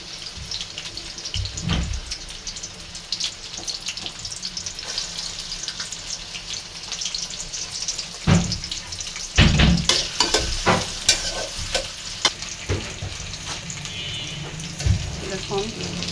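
Onions hit hot oil and fry with a loud, close sizzle, punctuated by sharp spatula scrapes and clatter against the pan, with brief voices in the background.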